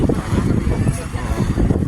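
Steady wind rushes and buffets against the microphone at the Chocolate Hills in Carmen, Bohol, a continuous low roar with gusty fluctuations and no clear speech.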